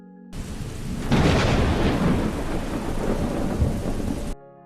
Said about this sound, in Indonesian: hujan lebat tiba-tiba mengguyur benteng Ansi